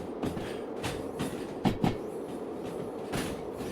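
Train running in a train video game, a steady rumble with rhythmic clickety-clack wheel knocks and a few sharper clunks, with no one talking.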